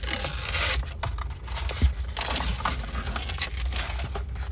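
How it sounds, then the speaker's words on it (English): Adhesive backing peeled off a sound deadening mat being fitted in the trunk of a Tesla Model 3 SR+, a steady crackling, rasping tear lasting several seconds under a low rumbling background, close and moderately loud. "Now we'll peel off the backing here."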